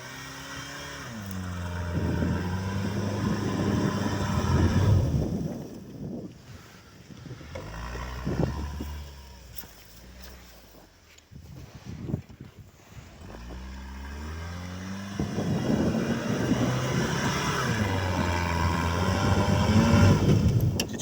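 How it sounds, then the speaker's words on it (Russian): A Veter all-terrain vehicle climbs a snowy slope through deep snow in second gear, its engine droning and rising in pitch as it works, then easing and building again, steady and fairly close with some wind noise. "Сейчас машина заходила на подъем на второй передаче."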